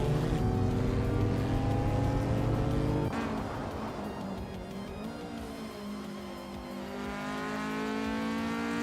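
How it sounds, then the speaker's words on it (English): A 1999 Honda Prelude Type roars through a video game race with a loud, buzzy engine note that drops sharply as a gear shifts, then climbs steadily as it accelerates again. "The Dreamkeeper is driving a 1999 Honda Prelude Type."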